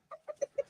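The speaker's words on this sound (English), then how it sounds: "Oh, he's got the roosters open. Look at the rooster." A rooster on a farm gives four short, fairly close clucks in an even rhythm, with no voices.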